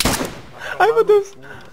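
A burst of gunfire in DayZ Standalone cracks out at the start, followed by a few shouted voices.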